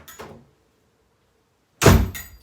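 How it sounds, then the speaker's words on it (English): Two heavy door impacts, a softer thud at the start followed by a long silence, then a loud close slam with a booming low thump and a brief rattling decay. "He slams the door."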